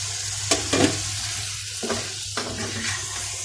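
Taro pieces stirred into spiced masala in a frying pan, a steady sizzle with a few sharp spoon scrapes and clinks, fairly close and with no talking.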